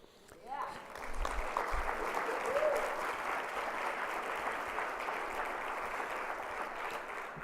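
Sustained applause from a conference audience, rising quickly and holding steady at full volume for several seconds, a dense wash of many hands clapping together.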